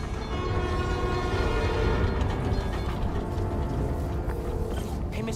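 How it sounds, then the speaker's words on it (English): A New York subway train in the Spider-Man: Miles Morales video game rumbles steadily with a loud, continuous roar and rattling wheels, joined by a horn-like tone, with no voices. "My trusty New York subway."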